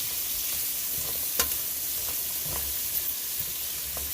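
Onions frying in oil and butter for Jamaican brown stew chicken give a steady close sizzle and hiss, broken by a few soft scrapes as they are stirred.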